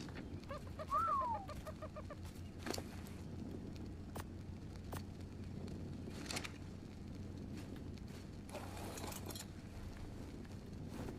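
A bird in the video game ARK: Survival Ascended squawks once as it is struck, followed by a few dull thuds of hits over steady low game ambience, fairly faint.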